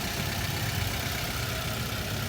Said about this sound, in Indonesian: Di bagian mesin, kondisi mesin sangat halus.